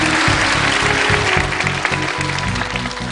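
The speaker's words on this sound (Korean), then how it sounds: "다시 한번 박수 부탁드립니다." A studio audience at a lecture show claps in a loud, dense, sustained burst that fills the room, with no talking over it.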